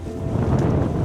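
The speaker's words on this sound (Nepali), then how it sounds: "हावा" Strong wind blows across the Yoshida Trail high on Mount Fuji, a loud continuous roar buffeting the microphone for a brief moment with no talk.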